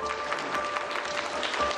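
Studio audience at a Pakistani game show clapping to vote on a game choice, a steady, dense wash of applause filling the moment without a break.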